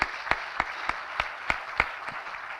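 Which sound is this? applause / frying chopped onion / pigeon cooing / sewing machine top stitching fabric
applause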